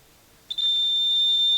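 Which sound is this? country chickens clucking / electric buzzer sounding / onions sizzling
electric buzzer sounding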